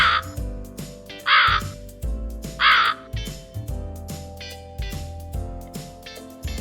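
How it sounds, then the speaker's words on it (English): A crow caws repeatedly, harsh rasping calls in short bursts about every one to one and a half seconds, fairly close and clear over a constant low background hum. "it is a crow that's making this sound"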